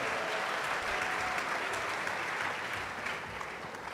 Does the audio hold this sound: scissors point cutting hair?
no